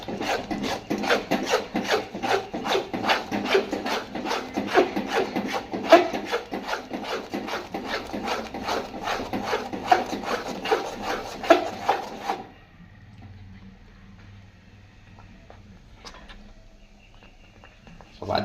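Semolina (rava) for village-style wedding kesari being stirred and mixed in a pan, a steady close scraping rasp of rapid strokes that continues for a while, then stops and leaves quiet room tone.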